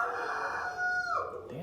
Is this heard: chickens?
yes